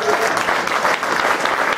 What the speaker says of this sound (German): einen kräftigen Applaus auch für den David.